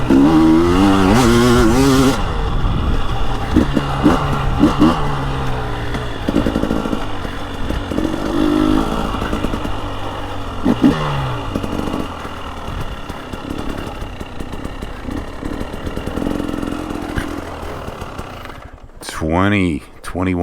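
A 2021 KTM 300 XCW Erzberg two-stroke dirt bike rides hard, its raspy engine revving, dropping and revving again up close, with bursts of throttle and a sharp rev near the end.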